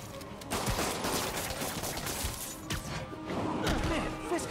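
Gunfire and crashing hits in the Marvel's Spider-Man video game, a dense, loud stretch of rapid shots and impacts that runs without pause throughout.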